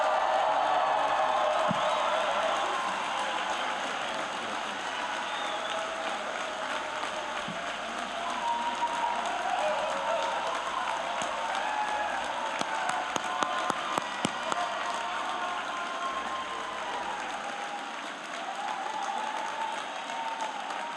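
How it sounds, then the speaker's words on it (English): A graduation ceremony crowd claps for the last graduate crossing the stage at a BCIT convocation, sustained, dense applause from a large audience that slowly eases in level across the whole stretch. "Let's give her a big round of applause"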